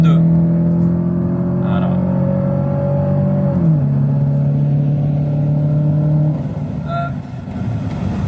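A Citroën Xsara with an automatic gearbox runs close by, its engine held at a raised, steady drone that drops in pitch partway through and then settles lower. Someone speaks briefly over it.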